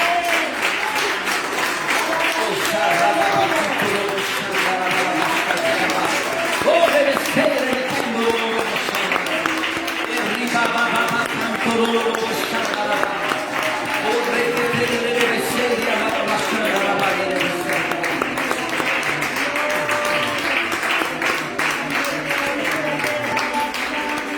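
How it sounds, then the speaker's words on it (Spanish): A church congregation at a morning service applauds in sustained, dense clapping that fills the room for over twenty seconds, with voices mixed into the applause. "Den un aplauso al Señor en esta mañana."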